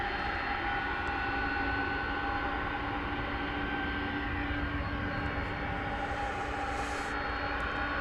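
A jet airliner at DFW Airport at night drones steadily for the whole stretch, a broad continuous engine roar with a faint whine, moderately distant and with no talk over it.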